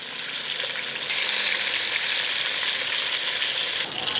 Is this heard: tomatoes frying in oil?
yes